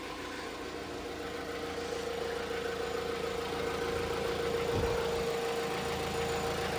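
A Jeep Compass engine idles while warming up after a radiator replacement, giving a low, steady, even hum with a faint tonal whine, quiet and unbroken, with no voices.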